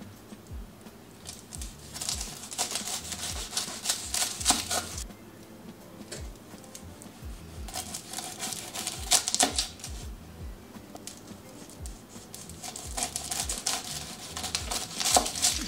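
A kitchen knife crunches through the tops of heads of produce, giving repeated close, crisp cuts in uneven bursts with brief pauses between them.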